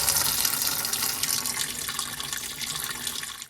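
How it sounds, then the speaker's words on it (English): Dirty water from an Ideal Logic boiler's magnetic filter drains in a steady, splashing stream into a bucket, close and fairly loud, tapering off at the end. "I'm just going to whip the magnet out and get it drained off into the bucket"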